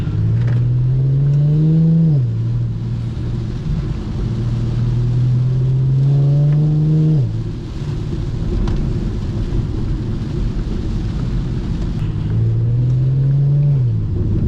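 A rear-wheel-drive Infiniti G37 engine revs and shifts repeatedly over a steady wash of rain and road spray, loud and close, with three rising acceleration pulls.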